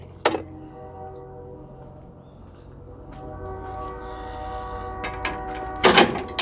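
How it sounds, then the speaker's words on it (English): A passing train rumbles steadily with a sustained, tonal hum and sharp metallic clanks at the start and again near the end, moderately near and without talk. "Shut up, train, I'm trying to make a video."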